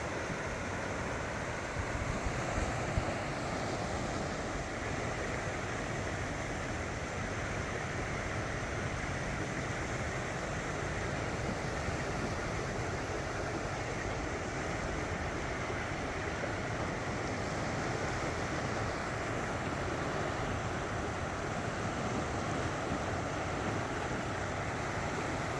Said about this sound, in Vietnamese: Nhìn nước chảy như thế này này.